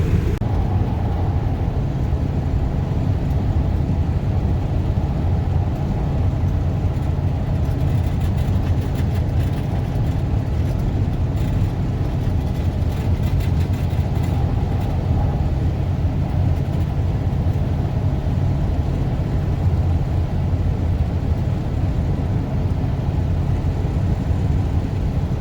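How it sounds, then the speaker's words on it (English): A shop truck driving on a mild morning with its windows down: a loud, steady engine drone and road rumble with wind wash, continuous and unbroken. "Got the windows down in the shop truck, just enjoying the weather."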